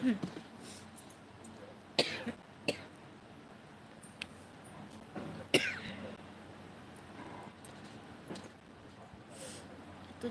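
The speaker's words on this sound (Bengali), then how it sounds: "এত কাশি হচ্ছে কেন বুঝতে পারছি না" Several short coughs and a throat clear break out at irregular intervals, fairly close, against a quiet room background.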